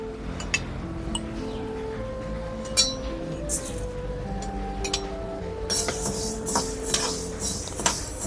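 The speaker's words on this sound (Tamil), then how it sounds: "அதில் அந்த 1 கப் பச்சை பயிறு வந்து நம்ம வறுக்க போகிறோம்." Green gram dry-roasts in a hot iron pan, with scattered crisp clicks and ticks as the grains are stirred, some louder rattling bursts later, over a soft tonal background.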